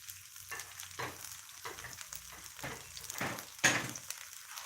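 Sliced red chilies stir-fried in a hot pan for a canned fish basil stir-fry, with repeated scraping stirs and bursts of sizzling at an uneven rhythm, close and clear.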